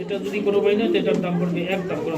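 Pigeons coo steadily and close at a busy pigeon market where fancy birds are sold, a low throaty warble running throughout with faint crowd murmur behind.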